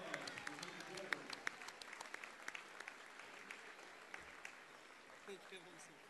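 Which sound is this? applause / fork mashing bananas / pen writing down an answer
applause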